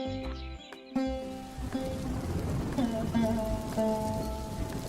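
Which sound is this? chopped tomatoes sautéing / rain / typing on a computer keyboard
rain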